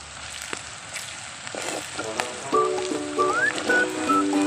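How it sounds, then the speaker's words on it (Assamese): Ginger, garlic and onion paste hits hot oil for a meat dish, giving a loud continuous sizzle and crackle that builds and stays strong, with a few brief tonal chirps over it near the end. "এতিয়া আদা নহৰু পিঁয়াজৰ পেষ্ট তেলত দি দিছোঁ।"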